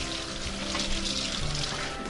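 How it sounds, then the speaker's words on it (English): Steady running water pours from a tap as hands are rinsed after smearing mustard on a standing rib roast, a continuous moderate splashing with no speech. "we'll wash our hands"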